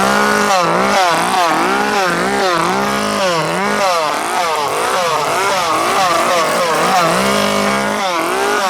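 Chainsaws revving at a Screamfest Halloween scare event, loud and close, with repeated rising and falling engine whines in a continuous buzzing roar.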